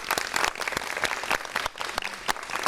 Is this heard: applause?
yes